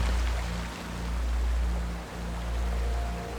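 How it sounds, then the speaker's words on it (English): Flowing water stream beside a beach, a steady broadband rushing wash with a faint low rumble that swells and dips slightly, continuous and unaccompanied by speech. "Can you hear the water stream on one side?"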